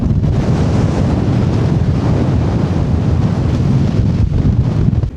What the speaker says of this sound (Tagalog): So, lakas ng hangin, parang lilipanin talaga rito